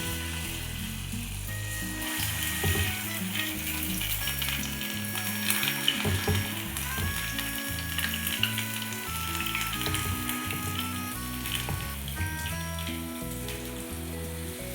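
Bonda balls deep frying in hot oil give off a continuous dense crackling sizzle with busy popping bubbles, steady and close throughout, with no voices.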